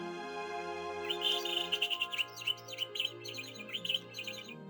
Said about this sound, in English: She sang a song with her friends, the birds.